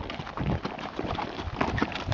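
Horse hooves clip-clop in an irregular walking rhythm along a desert trail ride, several quick close steps with a faint creak of tack.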